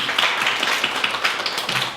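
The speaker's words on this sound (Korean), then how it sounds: "살아계신 하나님께 감사의 박수 올릴까요?" A church congregation claps together in thanks to God during a service: a dense, continuous patter of many hands, fairly close and loud, for a couple of seconds.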